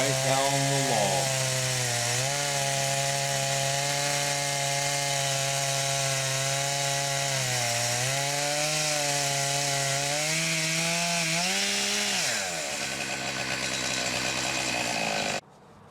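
A loud chainsaw roars continuously through a big cedar log for about twelve seconds, its engine pitch dipping and rising as the cut bogs and recovers, then easing off near the end.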